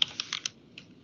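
Quick keystrokes on a computer keyboard while entering code, a burst of four or five close clicks, then a single later tap in a quiet room.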